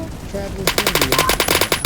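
Rapid machine gun fire in a multiplayer shooter game, a loud fast burst of evenly spaced shots rattling for over a second after a brief quieter lead-in.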